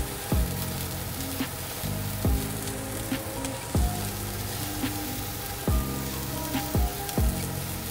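Onions searing in a hot pan give a steady, loud sizzle throughout, broken by several sharp clinks of a utensil against the pan, with no voices.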